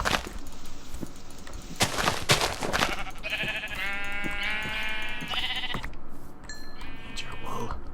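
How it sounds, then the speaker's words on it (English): Sheep bleating in the video game Minecraft with the TerraFirmaCraft mod, several wavering bleats over a busy mix of clicks and sharp game sounds, with some talk nearby. "Oh, that's a sheep."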